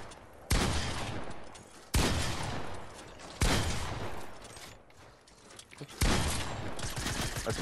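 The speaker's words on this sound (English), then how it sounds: "Shotgun." Four loud, close shotgun blasts in Fortnite, spaced about one and a half seconds apart, each a sharp burst that trails off before the next shot.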